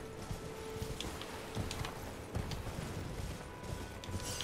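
In Elden Ring, horse hooves clop in a quick, uneven galloping rhythm, fairly faint beneath a dense game soundscape with scattered mechanical creaks, and no voices.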